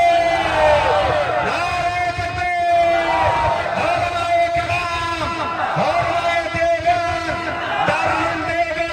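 A large crowd at an outdoor religious gathering in Khaira, Bhagalpur, Bihar roars back a takbir in unison, loud sustained chanting voices swelling and repeating for several seconds, with shouts rising above the mass.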